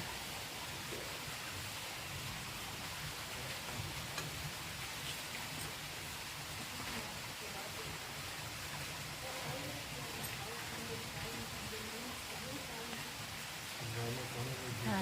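A mountain waterfall rushes in a constant broad hiss near a mountaintop, a steady roar that fills the whole scene without a break.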